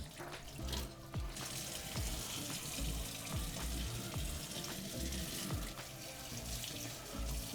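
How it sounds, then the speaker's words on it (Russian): Water pours steadily from a faucet into a matte-finish sink, a continuous close splashing rush with occasional small knocks and drips. "включим воду"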